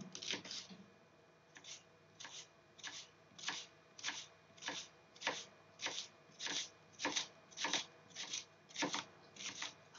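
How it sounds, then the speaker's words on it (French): A knife chopping food finely on a cutting board in a cooking workshop, about fifteen crisp, evenly spaced cuts in a steady rhythm, close and fairly quiet. "Donc essayez de couper assez fin."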